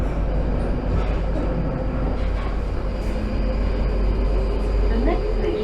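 A London Underground tube train runs between stations on a newly opened link, with a steady loud rumble and roar of wheels and motors throughout and faint squeals rising near the end.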